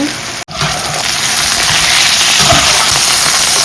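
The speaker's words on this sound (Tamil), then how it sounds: "கத்திரிக்காய் அப்படியே கொஞ்சம் வதங்கட்டும் எண்ணெயிலேயே" Eggplant sautés in hot oil for a Tamil-style biryani side dish, a loud steady sizzle and hiss after a brief gap, with faint voice underneath.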